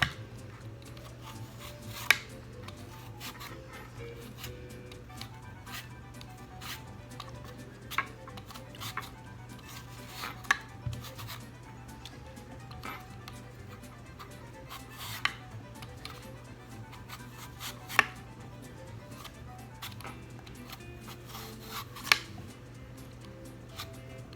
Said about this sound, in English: you're going to peel off the apple skin, just like so